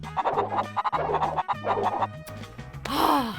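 A chicken in the video game Crash Bandicoot clucks in short rhythmic bursts with a low game tone underneath, and a sharp squawk or gasp comes near the end.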